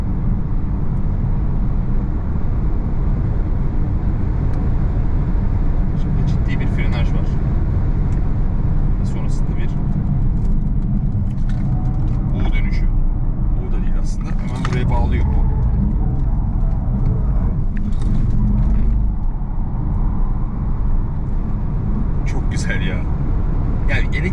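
An Alfa Romeo Junior Veloce electric car runs fast on a sporty race track with quick corners, its steady road and motor rumble continuous and loud beneath ongoing talk.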